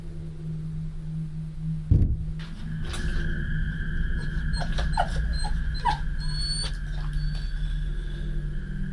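A dog whimpers and growls in a thin, wavering whine with low rumbling beneath, moderately close, while a steady background hum runs throughout and no one speaks.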